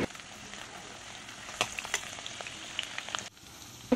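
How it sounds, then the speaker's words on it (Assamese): Potato pieces half-frying in hot oil for a broiler chicken curry give a steady, close crackling sizzle with a few sharper pops, dropping off briefly near the end. "এতিয়া ইয়াতে মই আলুকিপিচ প্ৰথমতে ফ্ৰাই কৰি ল'ম।"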